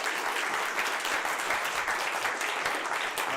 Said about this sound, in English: That round of applause also covers Adult Ed and Ritual.